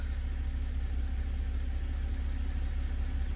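A rebuilt Toyota Supra engine idles steadily with a low, even rumble and faint mechanical hum, constant throughout with no talk.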